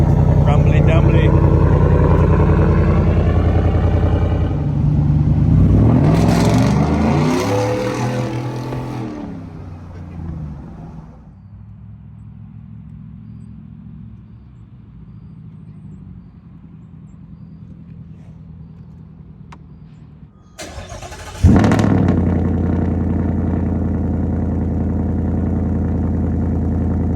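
Ford Coyote engine with a new, louder exhaust, heard as a deep, loud idle and rev with a rising and falling sweep early on, a quieter rumble after, then a sharp blip and renewed loud running.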